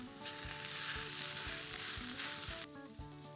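Boiled macaroni sizzles in a pan with sautéed garlic and onion, a dense close frying hiss with rhythmic stirring scrapes, and soft music underneath.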